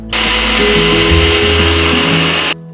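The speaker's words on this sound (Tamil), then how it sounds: "அடுத்தது எடுத்து வச்சிருக்கிற வரமிளகாயை அரைச்சிக்கலாம். இது கூடவே பூண்டு சேர்த்து 1-2 அரைச்சிக்கலாம்." Mixer grinder blending dried red chillies with garlic, a loud steady whirring motor roar that starts abruptly and holds for about two seconds before cutting off.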